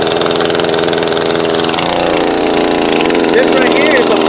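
A chainsaw engine runs close and loud as a steady buzzing drone, its pitch and texture shifting partway through, while a voice talks over it.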